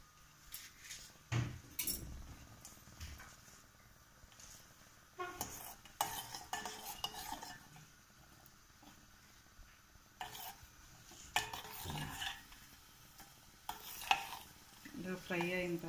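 Garlic, mustard seeds and cumin crackle in half a cup of hot oil in a tempering pan, quiet sizzling broken by several stirring scrapes and utensil knocks against the pot, with no voices.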